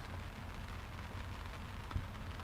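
Heavy rain hisses steadily on surfaces beside a lakeside fishing spot, a dense continuous wash with one low thump near the end, no voices.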